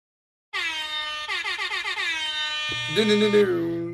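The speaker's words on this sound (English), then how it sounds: "Let me pull up my hip hop air horn." A blaring air horn sounds in rapid stuttering blasts, then a longer wavering honk, loud and processed like a sound effect, with no talking over it.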